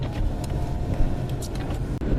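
A GMC Safari or Chevrolet Astro van engine, just started, runs at a steady idle with a continuous low hum and rumble close by.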